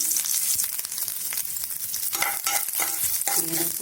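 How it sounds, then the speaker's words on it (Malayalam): Grated coconut sautéing in hot coconut oil, a steady broadband sizzle with scraping stirring strokes growing busier and louder toward the end, close and continuous with no voices. "ഇതിന് ഒന്ന് ഗോൾഡൻ ബ്രൗൺ നിറം മാത്രമുള്ള വരെ ഒന്ന് സോട്ടാക്കി വെക്കണം"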